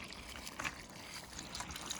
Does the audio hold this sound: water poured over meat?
yes